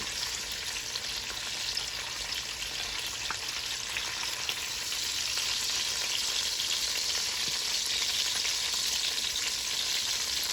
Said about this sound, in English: I'm gonna let those cook and brown up on the other side too